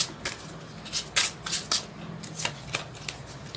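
Tarot cards being shuffled by hand, a run of crisp riffling bursts and soft flutters in an irregular rhythm, close and fairly quiet, with no talking.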